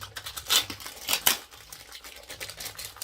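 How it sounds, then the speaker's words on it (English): Quiet snipping and crinkling as scissors cut open a thin plastic bag, a few sharp clicks among soft rustles, close up. "I'm gonna cut this bag, this little plastic thing open"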